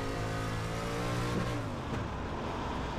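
A street stock car engine in a dirt-track racing game drones steadily as the car is thrown into a turn hard on the brakes, its pitch sliding downward mid-way, loud and continuous with no talk.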